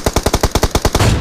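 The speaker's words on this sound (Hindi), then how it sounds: "मैंने सोचा क्यों ना AWM चिपकाई जाए इसे क्लोज में" Rapid burst of about nine sharp, loud gunshots from an AWM sniper rifle in the mobile battle royale game BGMI, evenly spaced and close, ending in a short noisy tail.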